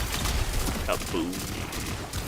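The Diamond Lance weapon fires at point-blank range in the Destiny 2 video game, a short, dense burst of rapid shots with explosive noise over a busy game soundscape.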